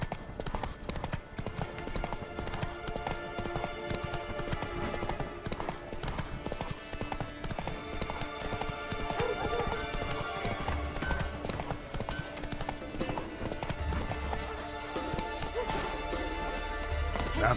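Roach, a horse in The Witcher 3: Wild Hunt, gallops with rapid, steady clip-clop hoofbeats that run continuously throughout, mixed with game ambience and voices talking.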